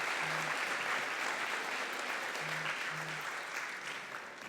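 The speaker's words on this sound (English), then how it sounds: "Ladies and gentlemen, please give a round of applause for the class of 2023." Sustained applause fills a senior banquet for a graduating class, a dense even wash of clapping from a large crowd that holds steady and fades slightly toward the end, with a few faint low tones beneath.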